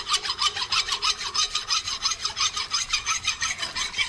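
A metal file rasps steadily across a stone surface in quick, even back-and-forth strokes, close and continuous, a gritty scraping rhythm with no voices.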